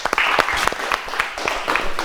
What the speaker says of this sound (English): give a clap to them again